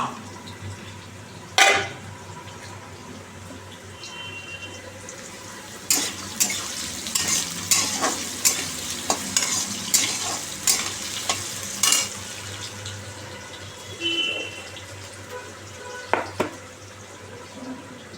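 Chilies frying in a home kitchen pan, with soft stirring scrapes and clinks of a utensil against the pan over a steady low sizzle, several sharp spatula knocks clustering in the middle.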